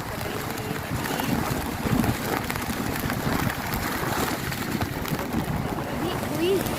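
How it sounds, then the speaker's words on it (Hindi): A river swollen by heavy monsoon rain in Dharni taluka, Amravati district, rushes as a continuous broad roar of water, with wind buffeting the microphone and people talking over it. "आवाज कर रही है नदी।"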